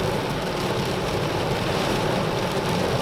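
Rain heavier than a light shower pours down outdoors, making a dense, unbroken hiss of drops at a steady loud level with no voices.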